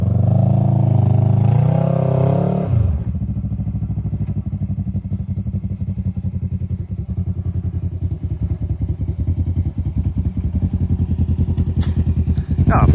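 An off-road vehicle fitted with an aftermarket exhaust revs hard while climbing a wall at an off-road park, first a loud roar and then a rapid, pulsing, throbbing idle-like chug close by, with some voices nearby.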